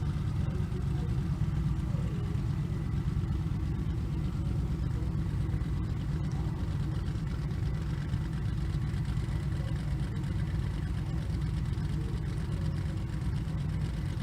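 Engine of a 1988 Camaro drag racing down the strip, a loud steady mechanical roar that holds across the whole stretch without clear rises or breaks, with no voices over it.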